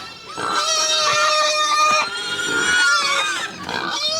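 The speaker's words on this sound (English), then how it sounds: "So we got to feed our brood pigs." Brood pigs on a small farm squeal and grunt loudly at feeding time, several overlapping high-pitched squeals in long bursts with short pauses and low grunts between.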